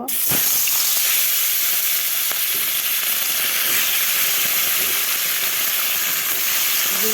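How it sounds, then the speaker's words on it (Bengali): Fish rubbed with salt and turmeric fries in hot oil, giving a loud, close, steady hissing sizzle that starts abruptly and carries on evenly without talk. "লবণ হলুদ দিয়ে মাছ মেখে রেখেছি এখন ভেজে নিব"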